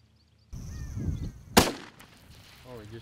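A single sharp, loud hunting rifle shot cracks out on an African plains game safari, cutting through hushed talk and brief rustling.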